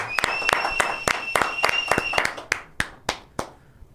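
A small group claps in a quick, fairly even rhythm that thins into a few scattered, separate claps at the end, with a faint tone lingering under the first half.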